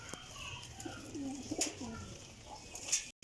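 Pigeons in a loft of about twenty-five birds coo in soft, low rolling phrases, with occasional faint chirps and bird calls around them, fairly quiet and close, with no talking.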